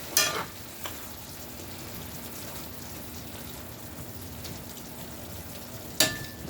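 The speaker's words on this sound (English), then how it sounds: "Let's give us a little stir here." Taco filling sizzles steadily in a hot pan, a continuous frying hiss with scraping stir strokes near the start and again at the end; no talking.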